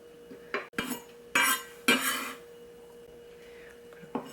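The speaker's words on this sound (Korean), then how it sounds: "버섯도 또 썰어주겠습니다." A knife slices mushrooms, including enoki, on a board for vegetable mushroom rice: a few close, crisp chopping taps and scraping strokes in quick succession, then a quieter pause with faint kitchen noise.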